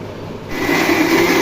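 A mixer grinder starts up on tomatoes and chillies for spicy tomato chutney, a low hum that jumps into a loud, steady whirring grind about halfway through, close and alone.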